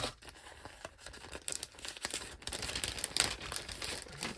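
Scissors cut the bottom off a thin plastic bag, giving soft, close crinkling and tearing rustles in quick, uneven bursts over about four seconds.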